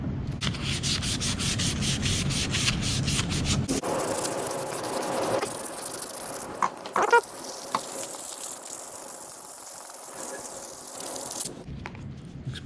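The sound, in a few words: sanding off sticker residue with sandpaper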